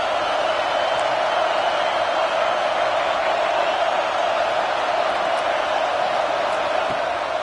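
A college football stadium crowd roars steadily on a big third down, a dense, sustained wall of cheering and noise from a large crowd with no break.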